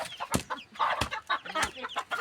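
A hen clucks while being caught, giving a close series of rapid, agitated clucks and squawks in uneven bursts, with no voices over it.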